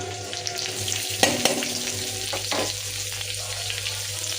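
Onion frying in hot oil with garlic and curry leaves for a toor dal tadka, giving a steady, close hissing sizzle with a few louder bursts as the pan is stirred.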